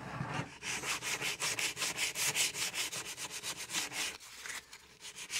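A wood edge is sanded by hand with 100 grit sandpaper in quick, even back-and-forth strokes, each a soft close scratchy rasp, about twenty in a steady rhythm.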